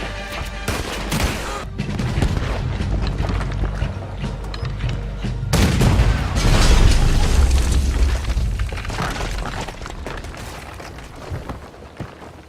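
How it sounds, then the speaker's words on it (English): Dense gunfire in the Red Dead Redemption 2 video game, with repeated booming shots and rapid volleys over a constant loud, rumbling game soundscape. "He's shooting! We have to take him down!"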